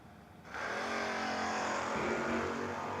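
Drag race launch between a Dodge Dart and a Mustang in a no-box 660 shootout: after a brief quiet moment, engines roar to full throttle with a sudden loud, sustained racing blare that holds steady to the end.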